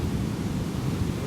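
Strong Pacific surf breaks and pulls back on a beach in Mexico, a heavy, low rumbling wash that rolls on continuously and close by, with no voices.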